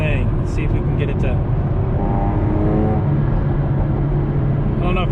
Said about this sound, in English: Jaguar does exhaust right.